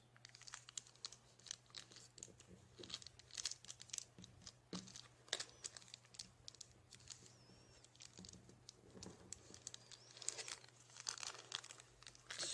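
A crinkly foil coffee bag is folded by hand, making irregular bursts of crackling and rustling with quiet gaps between, close and fairly soft over a faint low hum.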